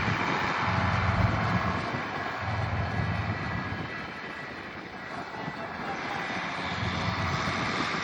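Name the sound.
tractor engine running while plowing a field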